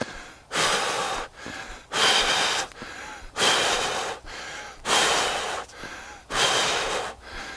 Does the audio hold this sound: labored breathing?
yes